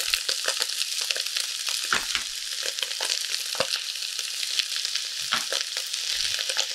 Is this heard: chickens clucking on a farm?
no